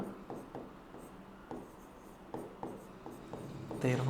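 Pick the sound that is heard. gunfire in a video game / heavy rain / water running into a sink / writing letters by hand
writing letters by hand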